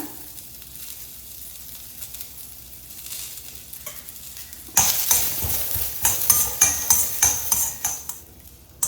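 Onion and curry leaves frying in a pan, a soft low sizzle that suddenly turns loud and crackling midway, with stirring and scraping strokes of a spoon against the pan.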